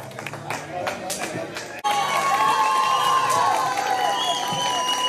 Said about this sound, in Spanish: que se haga fuerte el aplauso